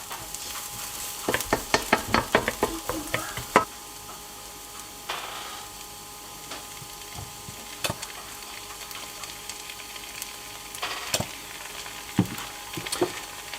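Garlic with onions and shallot cooking in a pan for bacon jam, a soft steady sizzle with a run of clattering stirring and scraping strokes early on, then quieter frying broken by a few sharper knocks.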